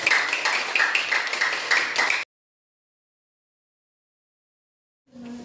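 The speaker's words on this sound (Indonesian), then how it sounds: "Tepuk tangan dulu untuk semuanya dulu." A classroom of students applauds for the groups that have just presented, a dense burst of clapping lasting about two seconds before cutting to silence.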